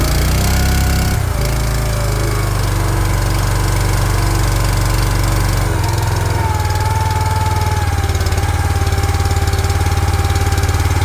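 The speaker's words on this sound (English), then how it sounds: "While I have the motor running on low idle and warming up" A Wolfe Ridge 17 RS wood splitter's small engine idles low while warming up, a loud, steady close-up drone with a rough mechanical chatter that holds unchanged throughout.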